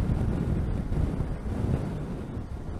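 Steady, loud wind buffeting the microphone while riding a motorcycle on a highway, a continuous low roar that never lets up, with no voices.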